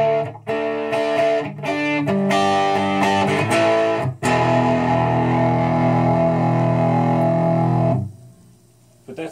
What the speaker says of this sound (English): even with the clean channel, you can get into some classic style distortion.